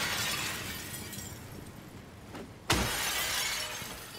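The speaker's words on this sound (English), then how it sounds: "Listen, I'm breaking all this glass." Glass shatters in Silent Hill 2 (2024) on PS5, a sudden sharp crash breaking through a steady wash of ambient noise, followed by continuing hiss, fairly loud and close with no voices.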